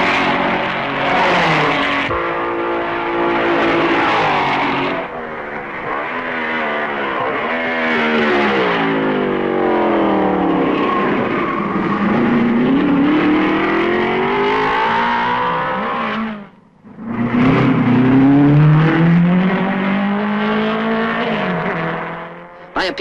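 A 1955 Maserati Formula One car and rivals roar past at the Spa-Francorchamps Belgian Grand Prix, with loud, continuous engine howls that sweep up and down in pitch as cars pass, with a brief dip before another car blasts by.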